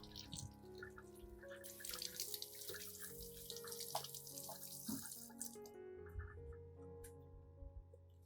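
Excess water drains and trickles off the freshly rinsed roots of a snake plant, a faint continuous splashing and dripping over quiet background music.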